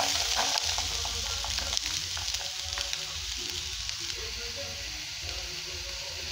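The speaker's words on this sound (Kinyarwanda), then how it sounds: "ibirungo byacu dutangiye kubikaranga. Turabikaranga bishye" Spices frying in a pan for an omelette, a steady close crackling sizzle with faint stirring, continuous throughout without talk.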